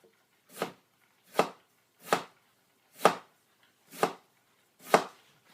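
A sharp knife finely chopping white cabbage on a board makes six crisp, evenly spaced chops, close and clear with no talk.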